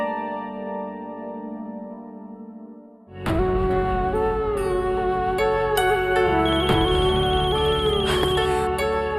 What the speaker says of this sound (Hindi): भाभी का फोन है।